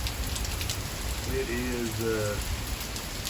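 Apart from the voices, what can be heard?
rain from a big storm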